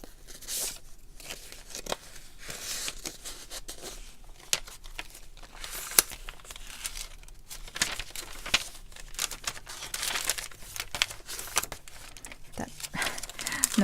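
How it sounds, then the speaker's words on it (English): Paper crinkles and crackles up close in uneven bursts, with small rustles and crunches scattered throughout and soft talking at moments. "She called it noisy paper."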